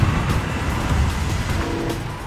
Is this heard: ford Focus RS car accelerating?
yes